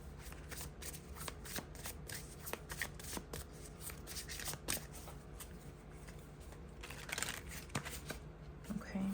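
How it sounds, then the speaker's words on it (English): A tarot card deck being shuffled close up, with a steady run of quick riffling and soft papery flicks throughout and no talking. "I'm just going to take out my tarot deck as well, just in case I need to clarify anything."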